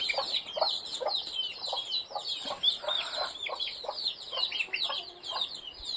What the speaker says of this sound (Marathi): एक कोंबडी आली एक पिल्ला